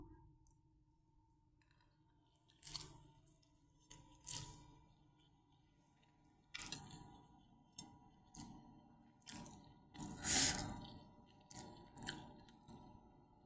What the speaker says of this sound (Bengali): লাইভটা শেষ করে খাচ্ছি এখন